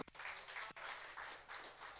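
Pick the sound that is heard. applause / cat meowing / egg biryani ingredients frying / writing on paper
applause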